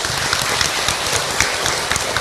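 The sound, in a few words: audience applause for the speaker Hilman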